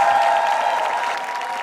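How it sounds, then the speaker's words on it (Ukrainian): A studio audience on a Ukrainian talk show applauds a singer marking 25 years on stage, a brief, steady wash of clapping from many hands under a sustained musical tone. "Ваші оплески"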